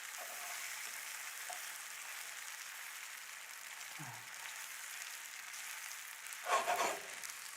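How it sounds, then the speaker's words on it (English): An onion and mushroom mixture cooks in oil with a little salt, giving a soft, steady frying hiss. It stays faint and even, broken by a couple of brief louder knocks or stirs near the middle and end. "We'll let this kind of cook and sweat in there"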